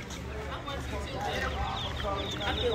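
A hen clucks near her chicks on a Vieques island outing, short soft clucks mixed with low chatter from people close by.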